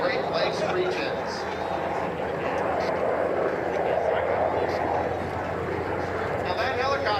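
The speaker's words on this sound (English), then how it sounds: "Now that helicopter in the lead" A Coast Guard Dolphin helicopter flying at the London, Ontario airshow drones steadily throughout, its rotor and engine noise forming a continuous rumbling wash at moderate distance under commentary.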